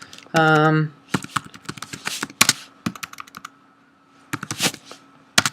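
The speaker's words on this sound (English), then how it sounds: "I must be typing something wrong" Rapid clicking keystrokes on a computer keyboard in bursts with pauses, close and fairly loud, while entering commands in the Towny server of a Minecraft-style game; a short tonal chime sounds near the start.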